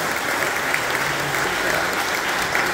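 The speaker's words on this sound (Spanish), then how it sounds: "Eso, un aplauso." Church congregation applauding during a Sunday Mass, a continuous dense round of many hands clapping at a steady level, filling the space with no break.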